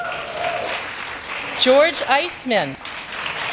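An audience applauds at a vegan Hall of Fame awards ceremony, a broad wash of clapping that carries on as someone speaks over it, loud and close.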